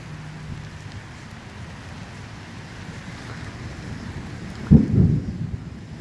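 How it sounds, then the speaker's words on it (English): A low rumble of distant thunder swells near the end, over a steady outdoor background hiss. "Yeah, I probably hear that thunder."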